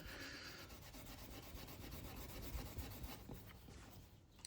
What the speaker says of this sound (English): I put some super fine steel wool here, just rubbing like crazy here on this.